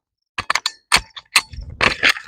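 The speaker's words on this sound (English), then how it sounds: "I shot and it hit my glasses." A rifle shot during a torture test of an Olight Osight sight, with a fragment striking the shooter's glasses: several sharp cracks and clanks in quick succession, close and fairly loud, with no talk.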